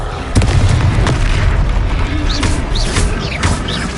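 Fiery Confringo spell blasts in the video game Hogwarts Legacy, a series of loud booming bursts with swooshing whistles and crackles, close and dense over a constant rumble.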